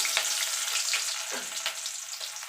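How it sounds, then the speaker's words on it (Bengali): Chopped garlic fries in hot oil for a pointed gourd mash, making a dense, even sizzle close up that runs throughout, with a few soft stirring scrapes and no voices. "দিয়ে রসুনটা একটুখানি ভাজা ভাজা করে নেব"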